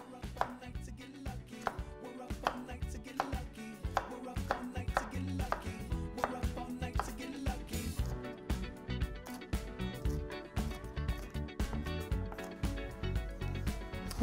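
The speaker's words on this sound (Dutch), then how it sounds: "Goed, die gaan we fijn snijden." Sweet pointed peppers being finely chopped with a knife on a cutting board, a steady run of close, quick rhythmic knocks set against background music.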